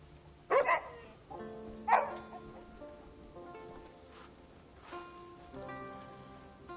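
A Jindo dog barks in the video game Crimson Desert, two sharp barks near the start followed by softer yips against a steady tonal game background.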